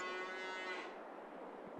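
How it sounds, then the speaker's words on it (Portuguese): Cattle lowing in the farming game Farming Simulator 22, a single drawn-out moo fading into quiet ambient game sound, short and moderately faint. "Já deu até o berrinho dos bichinhos, hein?"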